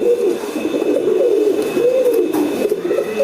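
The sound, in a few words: racing pigeon cooing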